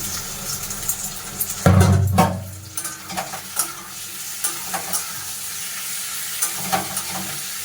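Curry with vinegar-marinated chicken skin and cabbage sizzles in a pan, with a sharp loud hiss as something hits the hot oil near the start, then steady frying under intermittent scraping stirs, close up.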